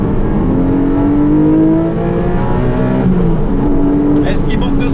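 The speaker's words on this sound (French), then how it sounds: "Et la nervosité d'un moteur Atmo quand même, ça m'avait manqué" A Porsche 718 Boxster GTS 4.0 naturally aspirated flat-six revs hard and climbs in pitch, loud and close, with rising whining harmonics as it accelerates.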